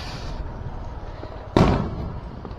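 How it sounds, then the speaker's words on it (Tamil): A single sharp Diwali firecracker bang goes off at moderate distance over a noisy street background, its crack decaying quickly into the ambient rumble. "இங்க பாருங்க, பட்டாசு நிறுத்தி வச்சிருக்காங்க."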